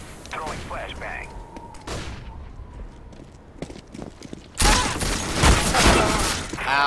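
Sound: flashbang grenade thrown in video game CS:GO

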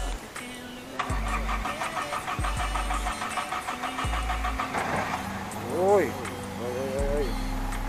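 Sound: Toyota Corolla KE30 engine starting and running

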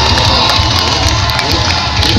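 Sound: crowd applause at a motorcycle show

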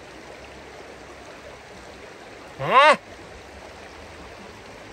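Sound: flowing water of a river near Poenari Fortress

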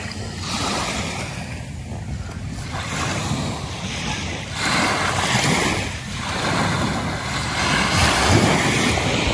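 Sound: sea waves

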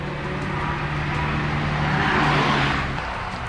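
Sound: car driving past

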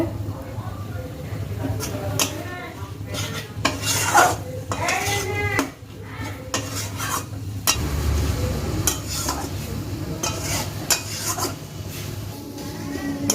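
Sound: stir-frying spice masala in a pan

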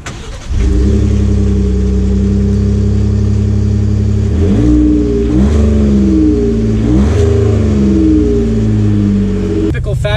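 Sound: 2019 Ford F-150 XLT pickup truck driving off

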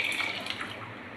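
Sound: pouring fresh milk into masala chai

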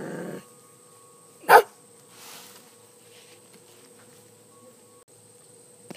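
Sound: dogs barking

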